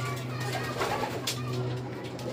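Stray domestic pigeon cooing close by, a soft low repeated coo over faint background noise.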